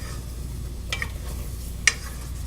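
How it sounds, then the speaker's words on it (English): Blueberry sauce is stirred in a pot, with a low steady simmering hiss and two faint scraping clicks of the spoon about a second apart. "So I'm going to just stir this up."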